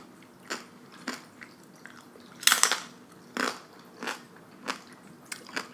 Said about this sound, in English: That was a crunchy chip.